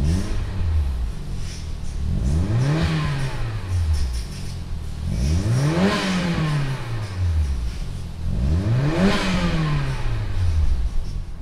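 A 1994 Toyota Celica GT-Four engine revs hard three times in a row, each rise and fall clear and close, over a steady running idle with no talking.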